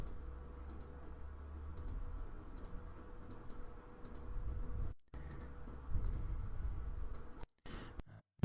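Computer mouse button clicks and keyboard keystrokes on a desktop, sparse quiet ticks scattered over a low steady hum, with a couple of brief dropouts.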